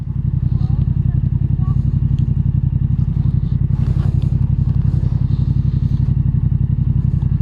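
A 2021 Yamaha MT-07 motorcycle fitted with a full Arrow exhaust system, idling loud and close with a steady, deep, throbbing pulse that holds evenly throughout.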